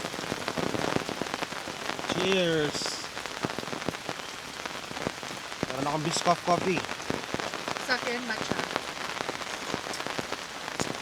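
Steady rain patters on surfaces at a mountain campsite in Tuba, Benguet near Baguio, a constant close hiss with droplet taps under people chatting.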